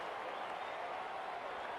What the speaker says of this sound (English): up goes the crowd